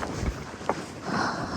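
Gusty wind buffets the microphone on the stairs of a canyon in Kazakhstan, a steady low rumble that swells and eases, loudest toward the end, with no voices.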